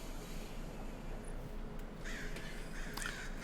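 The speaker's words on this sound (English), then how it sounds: "Birds. Lots and lots of birds." Crows caw repeatedly in the Destiny video game, harsh calls rising over a steady windy, surf-like ambient wash, with no speech.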